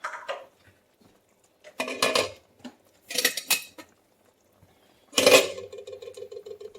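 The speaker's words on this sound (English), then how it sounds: "I'm going to go ahead and turn our lamb shanks over" Lamb shanks being flipped in a pan for red wine braised lamb, with several clinks and scrapes of metal utensils against the pan in short, separate bursts, close and fairly quiet.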